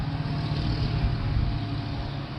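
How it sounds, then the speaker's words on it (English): A loud motorcycle engine roars past, its deep low rumble steady and fairly close, dominating the scene with no talk over it. "Always a loud motorcycle."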